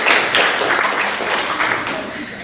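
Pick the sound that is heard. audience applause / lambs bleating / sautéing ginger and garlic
audience applause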